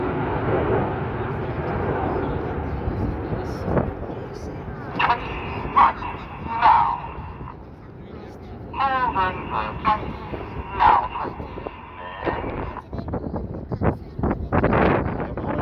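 Red Arrows jets flying a formation display at an air show, their steady engine roar heard across a windy open field, rising and falling as they manoeuvre, with a commentator talking over it.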